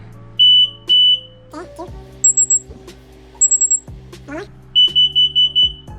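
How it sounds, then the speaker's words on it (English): Clusters of sharp, high electronic beeps from the power tailgate button of an Infiniti Q50/Q70 sound in quick bursts of several, close and loud, with a person talking between them. "So just press and hold it until you hear 5 beeps again."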